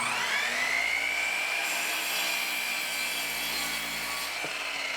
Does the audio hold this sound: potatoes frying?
no